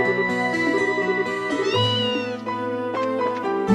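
A cat meowing in the video game Trails in the Sky, with a few clear, close meows over steady game background music and no talking.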